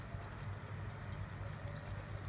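A kitchen tap on a Raspberry Pi water monitoring prototype runs quietly, a faint, steady hiss of flowing water with light splashing, heard alone with no talking.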